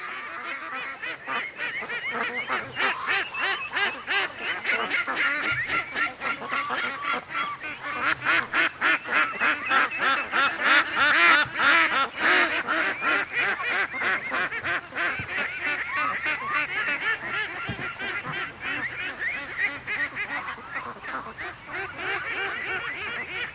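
A large flock of ducks in a creek keeps up a continuous, dense chorus of honking quacks, loud and steady throughout, with little talking.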